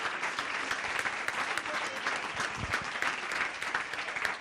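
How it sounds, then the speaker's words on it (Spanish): A crowd applauds steadily throughout, a dense continuous clatter of many hands clapping with no pause. "Un forte applauso."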